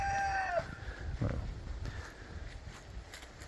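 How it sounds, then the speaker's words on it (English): A rooster crows once at the start, fairly close, followed by faint clucks and rustling in a quiet outdoor farm setting with goats. "there's a rooster"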